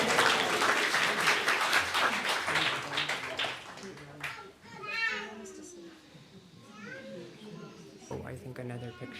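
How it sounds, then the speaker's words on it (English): Applause from a congregation at a Dharma school family service breaks out loud and dense, then thins into scattered claps while children's voices and adult chatter carry on beneath and after. "another big round of applause to our Dharma school teachers"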